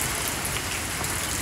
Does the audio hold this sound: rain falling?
yes